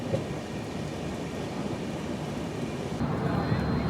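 A train creeps slowly through an elephant corridor near Madarihat, producing a steady, even low rumble of wheels and carriages that swells slightly toward the end, with a voice talking over it.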